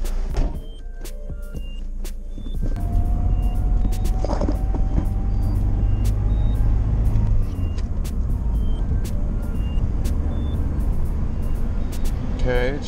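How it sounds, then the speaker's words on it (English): A car out on a test drive gives a steady low engine and road rumble from inside the cabin, continuous throughout, with scattered faint clicks and a voice now and then over it. "Let's take the car for a test drive"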